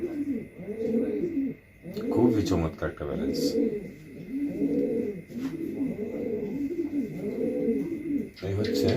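A checker racing cock pigeon of the 003 line coos in repeated low rolling phrases, close and steady, while someone talks over it.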